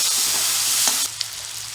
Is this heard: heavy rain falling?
no